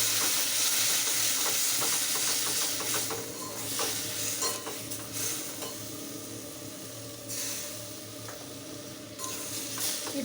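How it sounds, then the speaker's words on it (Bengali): Spice paste with a little water and a pinch of sugar being fried and stirred in a pan for a taro, potato and eggplant curry: a steady sizzle under repeated scraping strokes of a spoon, close up, no speech. "এবার একটুখানি জল দিয়ে আমি এটা কষিয়ে নেব।"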